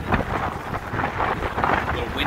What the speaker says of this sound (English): A little windy today, as you can hear.